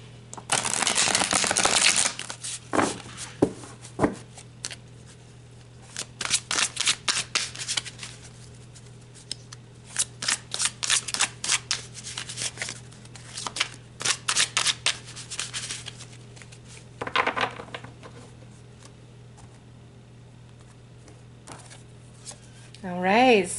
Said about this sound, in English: So let's pull some cards